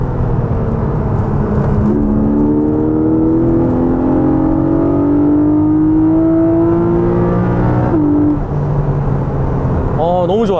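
A Porsche Boxster GTS 4.0 with a naturally aspirated six-cylinder engine revs high while driving, its tone climbing steadily and then dropping at a shift, loud and close with someone talking over it.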